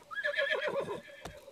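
A horse whinnies in The Legend of Zelda: Breath of the Wild, a loud wavering neigh lasting about a second, followed by a single sharp hoof clop.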